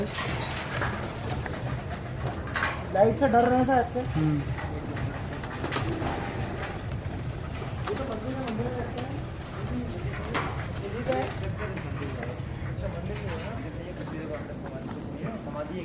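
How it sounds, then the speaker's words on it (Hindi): Pigeons coo softly nearby at a cremation ground after 1 AM, with rustling and fluttering movement around them, while a person talks over most of it. "ये कबूतर की चहल पहल है।"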